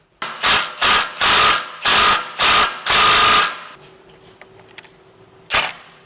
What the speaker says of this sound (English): that just absolutely sheared the bit right off